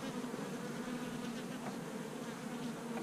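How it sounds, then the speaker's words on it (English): Honeybees buzz around a beehive as a beekeeper approaches, a steady, soft, close droning hum with no talking over it. "Y'all hear them buzzing?"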